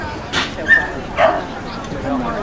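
At an outdoor dog show, a dog gives a couple of short yips and whimpery barks, close and moderately loud, with people talking around it.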